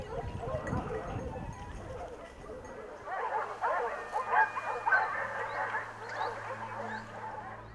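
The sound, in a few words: hunting dogs barking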